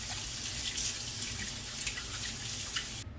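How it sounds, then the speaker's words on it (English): Hot water running from a kitchen tap as dough-making tools are rinsed, a steady broadband hiss and splash with small clinks, close and continuous. "Just rinse it off with hot water."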